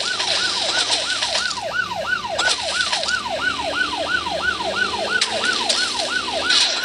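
A wailing ambulance siren from the police video game Police Sim 2022 sweeps up and down in a fast, regular cycle, loud and close throughout, with faint engine and road noise beneath it.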